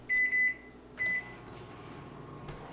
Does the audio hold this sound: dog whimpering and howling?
no